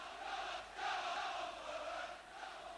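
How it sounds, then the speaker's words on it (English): A football crowd roars at Ayresome Park during a 1987-88 Middlesbrough v Chelsea match, a distant, sustained wall of chanting and cheering voices that swells and eases slightly. "The crowd is certainly responding in full voice"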